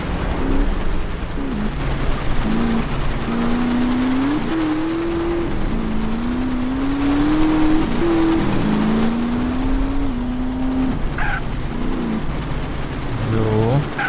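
A car is driven through the streets in GTA San Andreas, its engine droning steadily and rising and falling in pitch as it speeds up and eases off. A steady background hiss runs underneath, and brief tones appear near the end.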